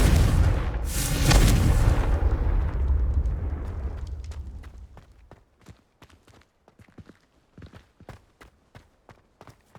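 A Confringo fire spell exploding in the Hogwarts Legacy game, a loud booming blast with a rumbling roar that fades over several seconds, followed by a series of quiet footsteps.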